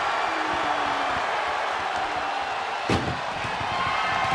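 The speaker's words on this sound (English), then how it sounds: "Pushing with every fiber of their being to slam the door" A single sharp slam of an ambulance door during an animated wrestling-style ambulance match, landing sharply once amid a steady crowd-like background wash.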